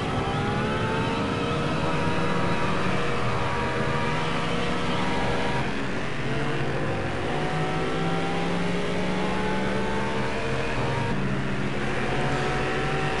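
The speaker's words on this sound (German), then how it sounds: "komm, ein bisschen Gas geben hier, Lamborghini" A Lamborghini engine in Test Drive Unlimited roars under sustained acceleration, its pitch sweeping upward through successive gear changes, loud and constant with no voices.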